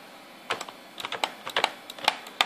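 Irregular clicks of keys being pressed on a computer keyboard, scattered bursts of close, crisp taps with short pauses between them, no voices.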